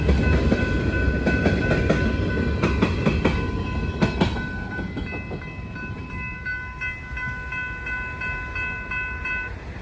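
BNSF freight locomotives 2836 and 2623 lead a local train past a grade crossing in Robbinsdale, Minnesota. Loud rumble and wheel clatter mix with steady crossing-bell tones, and the noise eases slightly as the train rolls by.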